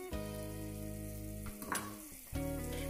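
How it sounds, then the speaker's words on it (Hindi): A chicken soup mixture comes to the boil in a pot, giving a steady sizzling bubble under a droning musical tone, with a brief stir or clatter in the middle and no talking. "ये मिक्सचर अब उबलना स्टार्ट हो गया है"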